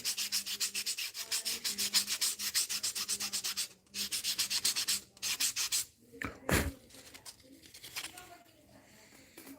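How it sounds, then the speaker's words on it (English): Rhythmic back-and-forth rubbing of sandpaper on a wooden musky crankbait lure, close and steady in quick strokes, pausing briefly before resuming more unevenly with a few knocks. "So a lot of sanding to do"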